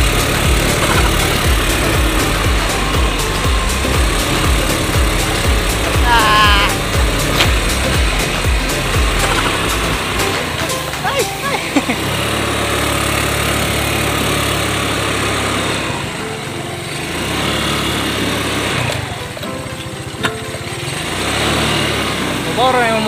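A small motor engine runs loud and close while tilling soil on a rural plot, droning steadily with a dense low hum before its tone drops and thins partway through; a voice speaks over it at times.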